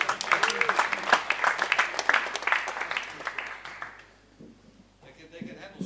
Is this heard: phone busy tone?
no